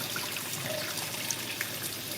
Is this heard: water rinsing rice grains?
yes